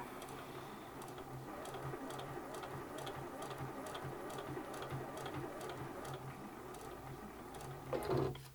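A sewing machine stitches steadily around a hexagon quilt flower, a quiet, even mechanical whir with a regular rapid ticking that stops near the end with a short louder clunk.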